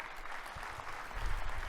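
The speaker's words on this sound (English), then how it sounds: "Let's give Mike a round of applause." A conference audience at a global dairy summit gives a brief round of applause, a soft, diffuse wash of clapping heard from a distance, swelling slightly toward the end.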